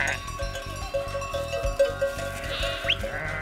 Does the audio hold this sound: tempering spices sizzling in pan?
no